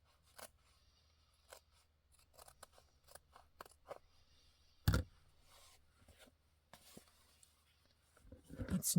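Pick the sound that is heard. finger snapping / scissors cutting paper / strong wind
scissors cutting paper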